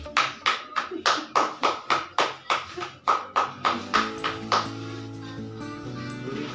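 One person claps in a steady rhythm of about a dozen loud, close claps after a kite ribbon cutting at a kite festival. The clapping stops and gives way to a sustained tonal background.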